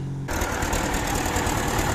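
A tractor engine with a GAZ starter motor kicks in abruptly and then idles with a steady, dense, close-up mechanical rumble and rapid regular pulsing.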